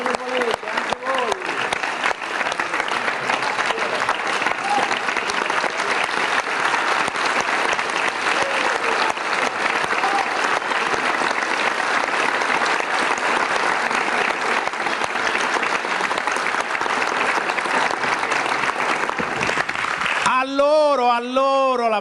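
An audience at a talk with an actor breaks into sustained, dense applause lasting about twenty seconds, close and loud, before a voice begins speaking at the end.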